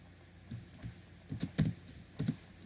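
Typing on a computer keyboard while coding HTML and JavaScript, a quick run of close, crisp key clicks in an uneven rhythm with no talk.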